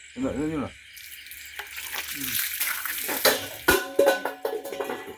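Water is poured from a metal pot in a close, splashing pour that builds after a brief voice at the start and continues in uneven gushes and spatters.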